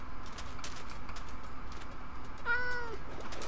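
A Minecraft cat meows once, briefly, over a steady background hum with no talking.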